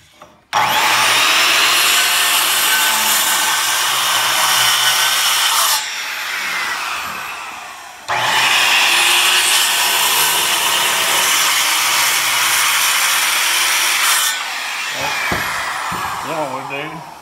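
A circular saw cuts through a wooden stair stringer in two long, loud passes, each a sustained whining rip that stops abruptly, with a short pause between and brief handling noises at the end.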